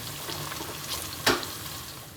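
Onions fry in hot oil for Egyptian koshari, browning toward golden; a steady close sizzle with a brief louder stir or clatter midway, no talking.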